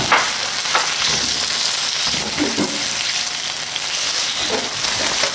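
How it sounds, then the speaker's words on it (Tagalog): Squid with its black ink sautés loudly in a hot pan, a dense continuous sizzle with occasional stirring scrapes. "So, igisa lang natin to."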